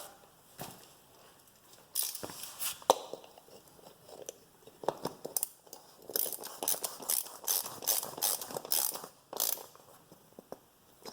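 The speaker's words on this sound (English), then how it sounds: "this was 13 millimeters, so we can get our socket" Ratchet socket wrench tightening a 13 mm drain plug on a 2015 Volkswagen Golf Mk7 TDI during an oil change: bursts of quick close clicking in short runs, with pauses between strokes and no talk.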